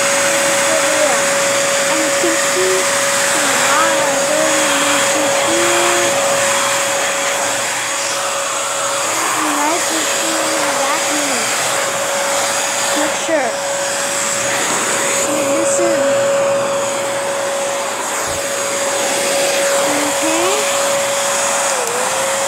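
A Bissell vacuum cleaner runs steadily indoors, a loud, constant motor whine with a sustained tonal hum and airy rushing noise, small pitch wobbles as it moves, with occasional voices faintly underneath.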